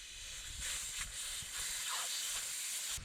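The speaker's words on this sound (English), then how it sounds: "As you do that, you'll start hearing air come out." Air hisses steadily out of a tire valve stem as the valve core is unscrewed, a soft, close, continuous rush with slight swells and no voices.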